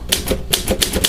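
A ScoutCrafter typewriter clacks out labels for HO model trains, sharp close keystrokes landing in a quick uneven rhythm of about six strikes, with no voices.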